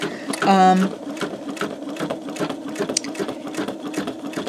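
An older home embroidery machine runs a fast, steady stitching patter while making a jump thread, with a brief whirring tone early on and a voice talking over it.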